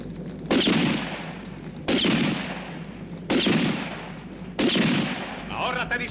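Four loud gunshots ring out at roughly even intervals, each with a sharp crack and a long echoing decay.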